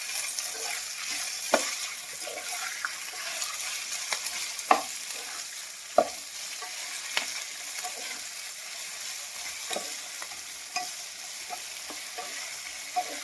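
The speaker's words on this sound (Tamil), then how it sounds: "உப்பு சேர்த்து நல்லா கிண்டி விட்டுக்கலாம்" Ivy gourd stir-fry with salt being stirred in a pan, a quiet continuous sizzle broken by sharp scraping clicks of the spoon every second or two, heard alone without talk.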